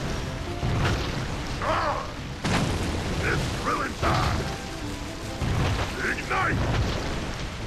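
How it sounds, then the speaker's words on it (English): Hot Head's oil explosion attack in Skylanders Giants, repeated booming bursts and crackling fiery blasts with mechanical clatter, recurring every couple of seconds under game music and effects. "here's a look at the oil explosion again"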